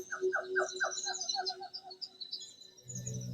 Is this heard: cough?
no